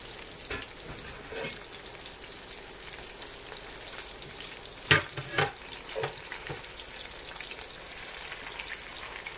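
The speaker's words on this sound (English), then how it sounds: "We're using Crisco frying blend, soybean and peanut oil for our oil today." Soybean and peanut oil crackles and sizzles softly in a cast iron pan, frying catfish nuggets, with a few brief louder pops and stirring clatters around the middle.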